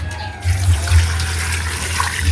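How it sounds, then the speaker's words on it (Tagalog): Water pours steadily into a cooking pan for a native chicken tinola, a continuous close splashing flow heard alone with no talk. "Lagyan mo ng tubig, Linet."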